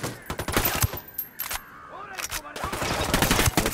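Rapid automatic gunfire rattles through a firefight in the video game Ghost Recon Wildlands, loud and close, with dense bursts that pause briefly before resuming heavier, alongside a short swooping effect in the middle.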